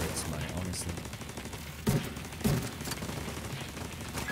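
Gunfire from an enemy turret in The Division 2 rattles through a dense, noisy firefight, with two sharper bursts standing out near the middle over constant background clatter.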